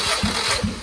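A 1.4-litre Ford ASDA engine from a Focus II cranks over rhythmically under the starter during a compression test, a loud pulsing chug repeating every fraction of a second, with no talking.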